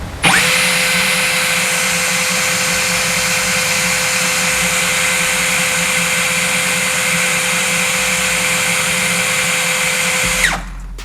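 A Tekiro XV 20V cordless drill spins at full speed for about ten seconds, a loud, steady high whine with a constant pitch that cuts off abruptly at the end, with no voices over it.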